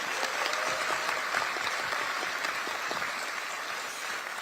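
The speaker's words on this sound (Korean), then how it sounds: "정청래 당대표님과 지도부에 큰 박수 다시 한번 부탁드립니다." A crowd at a Korean political party event applauds its party leader and leadership, steady dense clapping that fills the whole stretch without pause.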